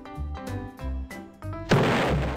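Meteors crash into a city in Roblox, with a few muffled booming impacts followed by a loud, broad explosion that rumbles on to the end.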